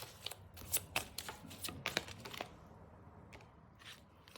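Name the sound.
drawing a tarot card from the deck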